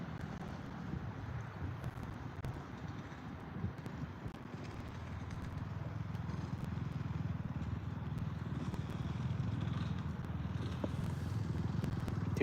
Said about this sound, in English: Here comes a dirt scooter.